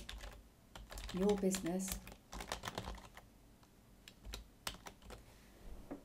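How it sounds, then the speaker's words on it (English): Computer keyboard keys tap in short bursts of close, crisp clicks while a person talks over them throughout. "you can just start typing in"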